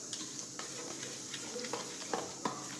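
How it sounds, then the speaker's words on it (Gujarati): A spoon stirs sugar into smooth curd for dahi vada, making soft, quiet scraping with a few sharper clinks against the bowl near the end. "હવે મિક્સ કરી દઈશું"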